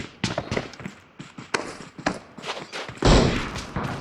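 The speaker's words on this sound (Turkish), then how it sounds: "Bir yerde savaş yani çatışma sesi geliyor." Video game battle gunfire, a string of sharp rifle shots and bursts firing in uneven rhythm, fairly close and loud, ending in a heavier blast-like burst.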